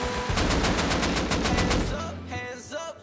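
Bursts of automatic gunfire in the survival game Rust during a PvP fight, rapid repeated shots for about two seconds followed by a few scattered quieter shots.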